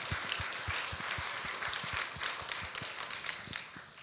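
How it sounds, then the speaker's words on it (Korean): A church congregation at a Sunday service applauds together, a steady wash of many hands clapping that fills the room without pause, with no talk over it. "우리 감사하다고 박수하겠습니다."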